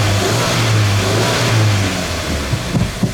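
A car engine revs steadily with the clutch pedal held down, during a check for clutch noise from the release bearing or gearbox. The drone is loud and continuous, with a few rougher bumps near the end and no talk.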